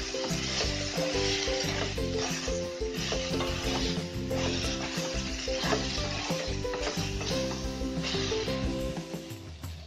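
Potatoes fry with green chillies, salt and mixed spices in a pan, a loud continuous close sizzle with stirring scrapes and steady crackle throughout.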